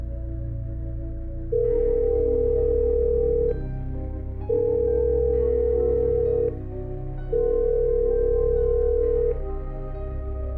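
While a phone call is being placed, a ringback tone plays as three long, steady beeps separated by pauses of similar length over a low, constant hum. The tone is loud and close, and nobody speaks.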